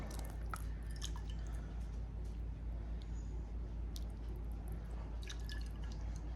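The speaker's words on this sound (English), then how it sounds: "I'm gonna put some of the broth." Hot ramen broth is poured into a bowl in a home kitchen, giving a steady wet splashing and dripping close by with no talk.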